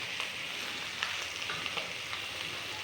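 Cut potatoes with turmeric frying in a pan for a fish curry, giving a continuous close hiss of sizzling oil with small crackling pops throughout.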